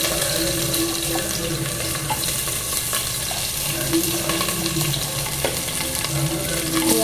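Onions and green chillies sizzle and fry in a pan with spices for mushroom biryani, a steady crackling hiss up close, with occasional clinks of stirring.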